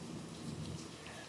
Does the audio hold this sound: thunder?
yes